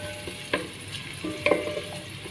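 Onion frying in heated butter gives a soft sizzle, broken by a few clatters of stirring.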